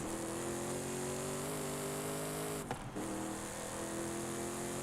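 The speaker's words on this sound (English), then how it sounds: "I love the sound of this truck." Truck engine in the racing game Forza Horizon 5, a steady mid-pitched drone held close and loud with a brief dip near the end, no voices.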